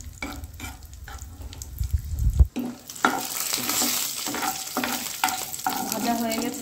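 Raisins fry in a pan over a low-to-medium gas flame until reddened. A dull thump comes first, then a steady sizzle with repeated scraping stir strokes, close and moderately loud, no talk.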